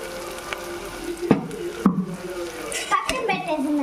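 Ginger garlic paste hits a pan of chicken fry gravy and sizzles, with steady frying hiss, a few sharp utensil clicks and stirring scrapes, and a voice speaking over it.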